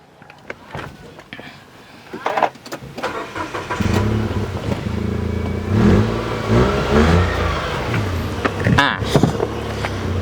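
A 2016 Nissan Almera VL with push-button start turns over and settles into a steady, close mid-pitched engine run, with a few clicks and clunks early on and some background voices.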